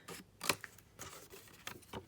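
Several crisp snips of scissors cutting paper, spaced irregularly with short pauses between cuts, close and fairly quiet.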